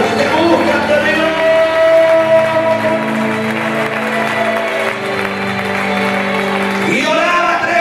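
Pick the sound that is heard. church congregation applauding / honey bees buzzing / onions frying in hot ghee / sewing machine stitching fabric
church congregation applauding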